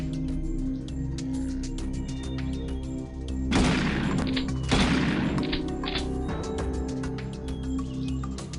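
Chain gun fire in the X-COM Xpiratez video game: two loud, dense bursts of rapid shots about a second apart, over a steady game background hum and music.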